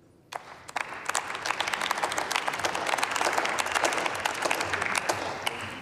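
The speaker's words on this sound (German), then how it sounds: "Applaus." Members of the German Bundestag applaud in the parliamentary chamber; after a few scattered claps the clapping swells into steady, sustained applause from many hands, moderately loud.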